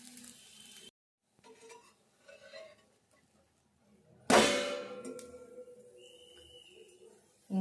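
A bun dosa made from idli batter is flipped on a pan over a low flame, giving a sharp metallic clang followed by a sudden sizzle that fades slowly, after a few quiet taps and clinks.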